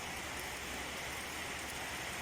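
Rain falling steadily around a vehicle in a rubber plantation area, a dense, even hiss of drops heard alone and at moderate level throughout.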